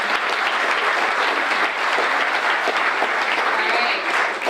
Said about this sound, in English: let's give these businesses another round of applause.